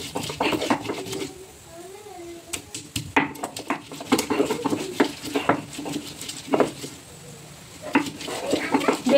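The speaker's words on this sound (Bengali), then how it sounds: "তো চলো এখন শিলনোড়ায় মশলা বেটে নেই" Spices are ground by hand on a shil-nora grinding stone, giving rhythmic, close scraping and knocking strokes that repeat steadily, with a little talking mixed in.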